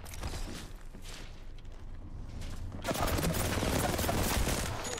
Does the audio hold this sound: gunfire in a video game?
yes